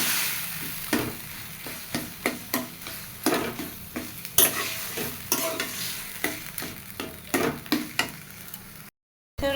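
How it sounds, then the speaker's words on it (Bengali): Taro leaves (kochu shak) frying in a pan, a steady sizzle broken by frequent rhythmic scrapes and clinks of stirring, close and fairly loud, with no voices. "এখন এটা ভালো মতো ভেজে নিতে হবে।"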